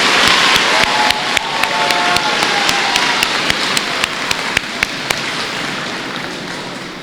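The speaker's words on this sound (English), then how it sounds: "Let's give another round of applause to our 8th grade readers." Sustained applause from a school audience at a Veterans Day assembly, a steady dense wash of clapping with a few sharper individual claps standing out, fairly loud throughout.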